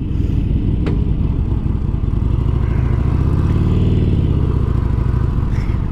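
A 2018 Harley-Davidson Forty Eight Special motorcycle riding out after warming up, its loud, rumbling V-twin engine thumping close and continuously, rising and settling with throttle.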